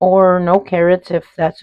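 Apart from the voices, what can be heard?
No everyday noise stands out behind the speech.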